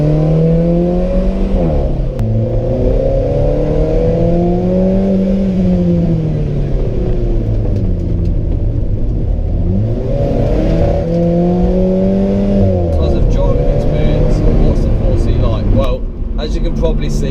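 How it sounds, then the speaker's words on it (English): A turbocharged engine in an Alfa Romeo 4C or Porsche 718 Cayman revs loudly and close, pitch climbing and falling in two broad sweeps with a steady drone between, turbo whine and rumble filling the whole stretch. "The noises that come from that engine and the sound of that turbo spoiling up"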